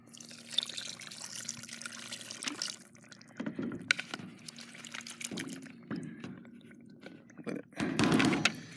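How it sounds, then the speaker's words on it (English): Water poured from a juice bottle into a bucket of dirt, heard as faint, uneven trickles and splashes that come in short bursts with pauses, ending in a louder gush. "what I'm going to do is basically just add water from the juice bottle here."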